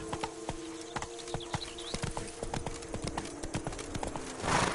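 Rhythmic clip-clop of a horse's hooves galloping steadily in The Witcher 3, close and continuous over a faint steady tonal hum, with a brief rush of noise at the very end.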